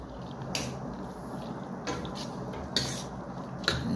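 Quiet scraping and clinking of a utensil stirring chopped vegetables in a cooking pot, with a few sharper metallic scrapes over a low background hiss.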